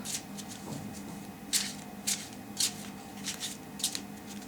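Tarot cards shuffle by hand, a series of short crisp riffling bursts repeating at roughly half-second intervals over a quiet room background.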